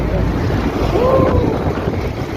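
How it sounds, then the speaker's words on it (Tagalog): Strong wind buffets the microphone in a loud, constant low roar, with a faint tonal whine briefly rising above it, while skating along Roxas Boulevard in Manila. "Lakas ng hangin dito."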